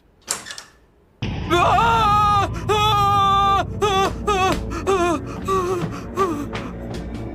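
A quick gasp, then a man screams loudly in long, wavering bursts that rise and fall in pitch, close and strained.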